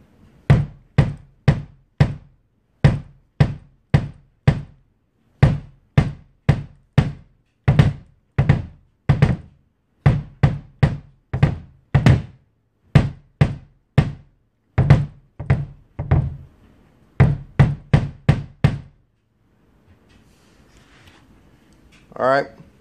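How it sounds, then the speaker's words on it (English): A Tama Swingstar bass drum fitted with Evans heads is struck with a DW 3000 pedal in quick repeated patterns of punchy close thumps, played alone, before a short quiet stretch at the end. "Here's how my bass sounds with the pedal."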